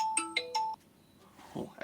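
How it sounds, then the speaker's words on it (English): Phone ringtone of three quick bright electronic chimes in succession, then a pause and a faint low rustle. "Oh, off goes the phone."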